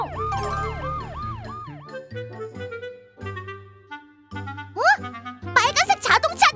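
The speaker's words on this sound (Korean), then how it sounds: "응급환자 발생! 구급차 출동!" A cartoon ambulance siren wails in a rising and falling pattern, joined by bright jingling tones and playful musical effects in a children's animated story; the siren sweeps return louder near the end.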